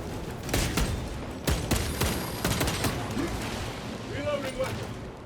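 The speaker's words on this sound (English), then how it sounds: "Oops, I didn't realize I was getting sniped at." Gunfire in the video game Warhammer 40000: Space Marine 2, with repeated sharp shots and bursts mixed with explosions and game effects, loud and close, while a person talks over the action.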